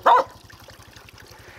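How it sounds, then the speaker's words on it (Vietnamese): Dogs at a remote highland village give a single short, loud bark near the start, followed by a faint trickling background of running water. "Bên này có mấy con chó thấy mình lạ này"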